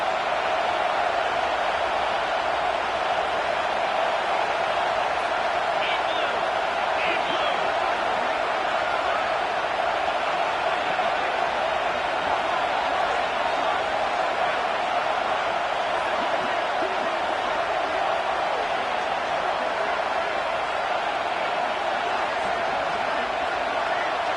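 A packed Penn State football stadium crowd makes a constant, loud wash of noise that holds steady throughout, with only faint scattered shouts poking out of the roar.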